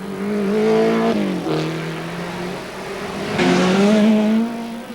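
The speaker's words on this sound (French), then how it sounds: "Quant à Rosella, je vous laisse admirer sa maîtrise, mais aussi l'admirable comportement de son véhicule qui semble rivé à la piste." A Lancia Delta S4 rally car at an Euroterre event in 1987, its engine droning loudly and steadily, pitch rising through the gears with brief shifts, heard alone and close.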